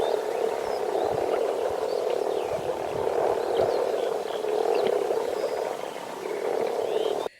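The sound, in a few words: moor frogs (May swamp frogs) croaking in Biebrza marshes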